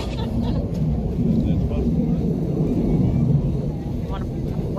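A US Navy Blue Angels jet flies over NAS Pensacola, Florida, producing a steady, loud, broad roar that rumbles throughout without fading. Voices murmur faintly beneath the engine noise.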